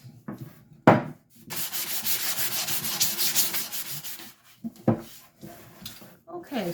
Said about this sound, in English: Okay, so now we've lightly sanded the box.